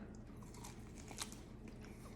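A faint, close bite into a smoked Dr Pepper baby back rib makes a soft crunch, with one sharper bite standing out midway over quiet background noise.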